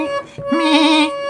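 A high harmonium note, likened to a goat's bleat in a beginner's lesson, sounds after a brief low blip and sustains clearly with bright overtones, alone without talk.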